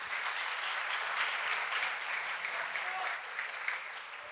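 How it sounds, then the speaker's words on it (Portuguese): An audience at a physics lecture applauds a volunteer, steady dense clapping that stays fairly even in loudness throughout, with no voices heard over it. "Uma salva de palmas para o Matheus."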